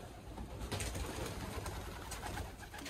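Racing pigeons coo softly at the loft, several birds making low repeated murmuring calls with no talking, distant and quiet against light background noise.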